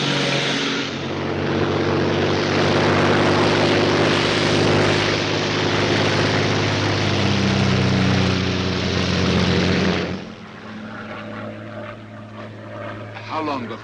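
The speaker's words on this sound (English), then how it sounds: "a Royal Air Force plane is waiting for us at a secret landing place" A Royal Air Force propeller plane in a 1943 Sherlock Holmes film, its engine drone loud and steady for about ten seconds before fading down. Faint background sound continues after that.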